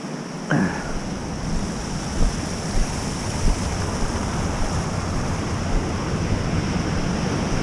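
Ocean surf washes onto a beach seen from an overlook, a constant broad roar of waves with wind buffeting the microphone, loud and unbroken, no voices.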